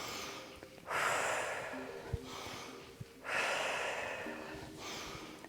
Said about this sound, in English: Taking some nice big breaths.